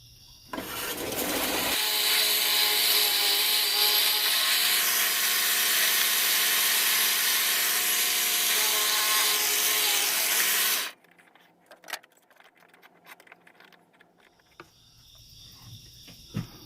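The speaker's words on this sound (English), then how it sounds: "I'm going to drill a pilot hole with a little smaller drill bit" A small drill bit bores a pilot hole in a piece of wood held in a vise, giving a loud, steady high-pitched whir for about nine seconds before it cuts off abruptly. Quiet handling clicks follow.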